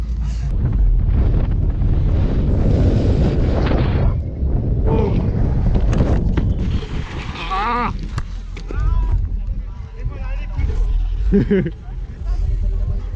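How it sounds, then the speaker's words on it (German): Strong sea wind gusts buffet the microphone at the FISE mountain-bike event in Montpellier, a loud, continuous roaring rumble that swells and dips, with people talking underneath. "es kommen hier immer so krasse Windböen rein und uns hat es gerade voll verblasen"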